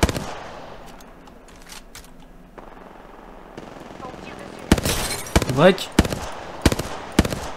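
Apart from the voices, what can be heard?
gunfire in the video game Apex Legends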